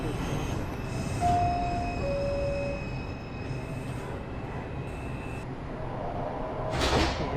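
A subway train on an IRT mainline in Roblox rumbles steadily while sliding doors and door chimes sound, with a few steady tones over the running noise and a louder swell near the end.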